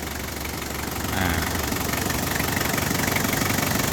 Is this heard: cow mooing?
no